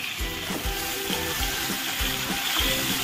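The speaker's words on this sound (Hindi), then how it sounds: "और इसे मैं भून लेती हूँ" Tomatoes sizzling with spices in a hot pan for aloo chhole, a steady loud frying hiss broken by regular low thumps as the mixture is turned, close by with no voices.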